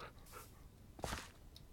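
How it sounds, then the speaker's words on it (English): A dog in the game Minecraft pants in a short, soft breathy burst, faint and close against quiet background noise. "There's a dog in here."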